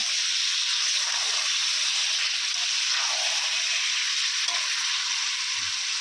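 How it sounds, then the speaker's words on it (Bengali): Chicken cooks in a hot kadai (wok), giving a continuous, even, loud sizzle of frying oil with faint stirring, heard close and without voices. "আমি হচ্ছে চিকেনটা বানাবো, কড়া বসিয়ে দিয়েছি"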